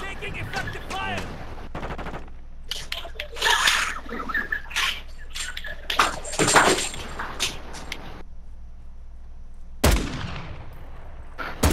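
Gunfire in Call of Duty: Modern Warfare II crackles in rapid bursts and scattered shots over game effects and background ambience, with some voices heard under the shooting.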